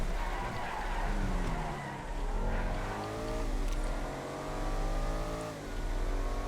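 A Huntley S SUV in a GTA FiveM video game race revs its engine while its tires skid and squeal, with the engine pitch sweeping up and down in waves as it accelerates and slides through corners.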